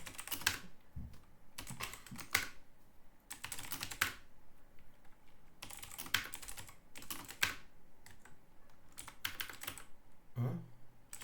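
A computer keyboard clatters with quick bursts of keystrokes and short pauses while a terminal command is typed late at night, close and fairly quiet.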